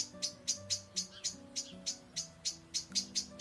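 Blackbird alarm calls scolding at a cat in a garden: a steady run of about a dozen sharp, loud chirps at a regular rhythm, with no talk.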